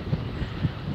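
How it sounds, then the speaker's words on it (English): Low, steady wind rumble buffeting outdoors at Morecambe Bay in early September, with gusty swells and no talking. "so windy here"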